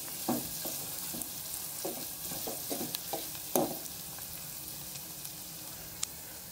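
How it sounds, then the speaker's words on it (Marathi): Chopped onion fries in oil in a pan, cooking until reddish-brown, with a steady soft sizzle and several short stirring scrapes and clinks near the start, alone without talk. "तर आहे ना कांदा आपण चांगला लालसर होईपर्यंत परतून घेतोय।"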